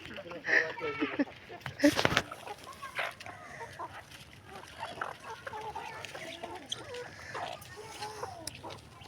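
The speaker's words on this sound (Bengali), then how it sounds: "মানে পাশের পাশের মুরগিও চলে আসছে খাওয়াদের সঙ্গে সঙ্গে" Free-range village chickens cluck and call while feeding at a small backyard poultry farm, several birds close by with scattered clucks over a busy outdoor background, and people talking at points.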